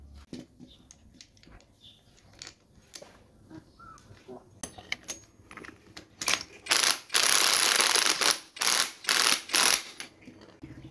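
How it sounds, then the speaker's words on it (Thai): A torque wrench tightens a size 27 nut toward a 210 newton-metre spec, giving quiet, scattered ratcheting clicks that build into loud, rapid bursts of mechanical clatter near the end. "เดี๋ยวผมจะใช้น็อตเบอร์27ครับในการทดลองวันนี้แล้วก็จะใช้ประแจปอนในการขันครับ"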